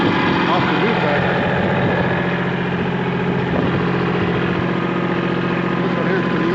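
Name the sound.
tractor engine running, moving down hill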